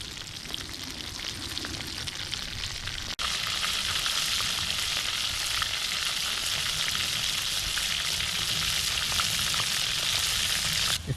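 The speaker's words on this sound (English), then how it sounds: "since we had the oil going for the onion rings, we decided to experiment, and we threw a little bit of the asparagus in here" Asparagus frying in oil used for onion rings at a campsite, a dense hissing sizzle that jumps louder after about three seconds when more goes into the pot, then holds steady with fine crackles and no talk.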